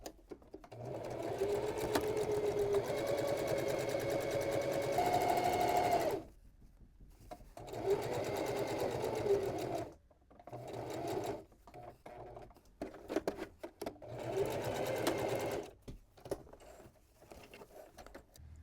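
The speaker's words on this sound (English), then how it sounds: "I'm going to sew along this previously sewn edge." A sewing machine stitches along a previously sewn edge of fabric and back-stitches, running in a close, steady motor whir broken by several pauses. The bursts get shorter toward the end, with faint handling clicks in between.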